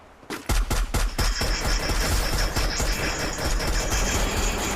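Dense automatic gunfire from a Free Fire battle-royale match, with rapid overlapping bursts and heavy sustained shooting after a brief quiet start, loud and continuous throughout.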